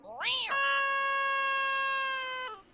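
A single long, drawn-out meow from a cat, close and clear, rising at the start and holding steady before trailing off.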